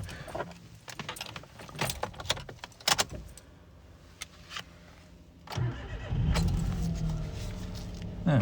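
A Toyota Aygo being started: keys jangle and a few sharp clicks and knocks, then the small engine cranks and catches into a steady low idle, recorded from inside the car.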